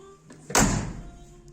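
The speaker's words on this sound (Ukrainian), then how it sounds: "Дверцята як зачиняються." A pickup truck door swinging shut with one solid, close thunk and a brief fading rattle, a faint click before it and a tiny tap after.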